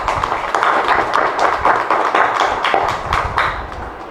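A crowd at a Tamil public speech in Chennai breaks into clapping, a loud, close burst of many hands with sharp individual claps standing out, sustained for a few seconds before easing off.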